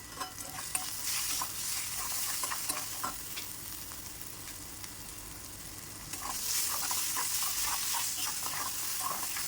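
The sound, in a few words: onion garlic masala being roasted in oil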